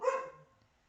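A dog gives one short, loud bark up close, then the sound quickly fades into near silence.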